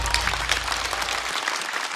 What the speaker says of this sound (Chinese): 掌声再次送给贾浩